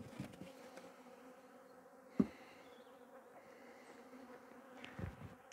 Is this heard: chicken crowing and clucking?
no